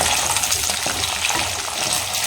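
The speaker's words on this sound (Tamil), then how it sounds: "இது பாருங்கள், சின்ன வெங்காயம் சேர்த்தாச்சு" Small shallots frying hard in hot oil for a village-style fish curry, a loud, dense, continuous sizzle and spatter heard up close without any talking.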